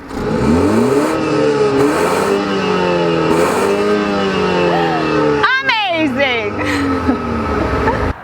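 Close, loud engine revving of a 2020 BMW X1 xDrive 28i SUV through larger tailpipes, in rising and falling sweeps with a deep exhaust rumble, a few sharp blips near the end.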